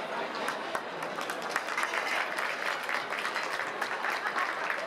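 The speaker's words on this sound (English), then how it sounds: "Thank you for half of you clapping for me coming up." An awards-night audience at the Americana Awards applauds an auctioneer stepping to the podium, a steady wash of mid-sized crowd clapping throughout the short stretch.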